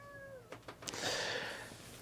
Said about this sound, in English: but he is one of our favorite cats.